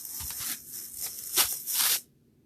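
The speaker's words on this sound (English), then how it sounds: "And now I'm going to pull the whole transfer off." Large transfer sheet peeled off in a series of tearing, crinkling pulls, with louder rips near the end before stopping abruptly.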